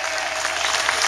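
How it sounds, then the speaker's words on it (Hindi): An audience at a motivational parenting talk claps in a dense, steady burst of applause, close and loud, with no pauses for its full short span. "कोना से ताली बजाइए, पीछे से आवाज नहीं आ रही है।"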